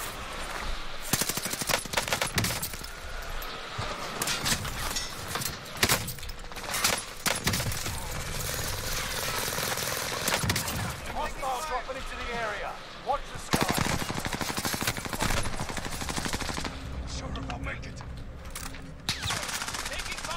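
Gunfire in the video game Call of Duty Rebirth Resurgence, dense automatic bursts and single cracks rattling almost without pause over game noise, with brief voice callouts mixed in.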